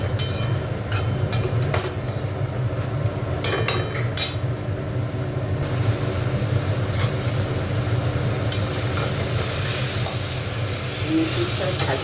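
Fenugreek leaves (methi shaak) being stirred and fried in a pan, with a steady low sizzle and occasional clinks of a spatula through the clip, speech-like sounds faintly in the background.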